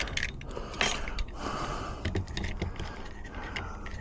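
Door lock bolt being worked by hand by a locksmith on a lock stuck in the locked position, a close run of metallic clicks, scrapes and small ratcheting knocks.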